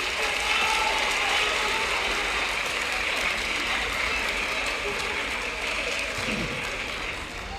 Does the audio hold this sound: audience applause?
yes